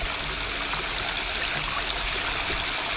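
Water runs steadily out the top of an unsealed Micro Banker prospecting sluice, a continuous close rushing and trickling flow with no break or voices over it.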